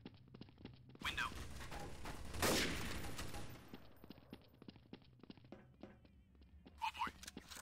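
Counter-Strike: Source gunfire crackles in scattered single shots and short bursts, with a denser, louder barrage near the middle. Voices speak intermittently over the shooting.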